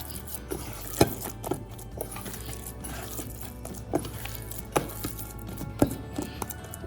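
A knife cuts spread rava dough into diamond shapes with soft, irregular taps and clicks against the board, about seven sharp hits over a quiet, faint background.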